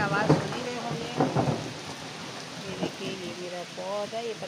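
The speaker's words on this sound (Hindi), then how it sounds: "ये देखिए कितना जोरों का बारिश हो रहा है हमारे यहाँ, जोरों का बारिश हो रहा है माशाल्लाह।" Heavy rain pours steadily at a home in a thunderstorm, with low rumbles of thunder rolling beneath it. A person talks over the downpour throughout.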